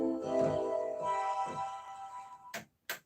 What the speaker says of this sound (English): If you have the strings on its own, it would sound like this.